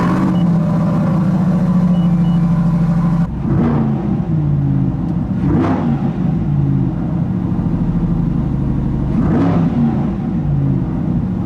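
A Chevrolet C8 Corvette fitted with a TKO exhaust runs with a steady, loud rumble, then settles into a lower idle broken by three short throttle blips.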